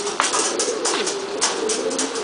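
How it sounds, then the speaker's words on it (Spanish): Buchón gaditano pigeons coo softly at close range, a low throaty warble that rolls on continuously, with a few faint chirps over the top and no talking. "Están bonitas, están bastante inflonas las palomas."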